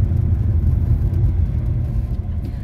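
Chevrolet Monza SL/E with single-point fuel injection rolling in third gear over a speed bump, heard from inside the cabin as a steady low engine and road rumble with soft thumps, no talking.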